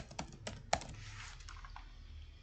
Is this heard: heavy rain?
no